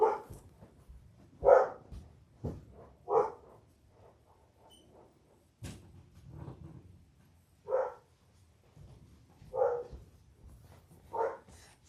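A dog barks in separate loud bursts, about seven or eight over twelve seconds at uneven intervals, close by, with quieter stretches between, in a home setting.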